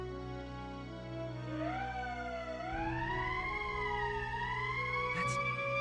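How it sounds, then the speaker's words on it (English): An emergency siren in the video game Valkyria Chronicles wails with rising and falling tones, climbing in pitch over a steady background music bed and holding loud to the end. "That's the emergency siren."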